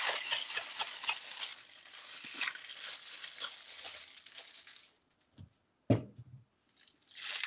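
A new electric bag sealer closes a plastic bag in a home kitchen with a loud, continuous hissing crackle that lasts several seconds, then stops; a few short clicks and one sharp knock follow.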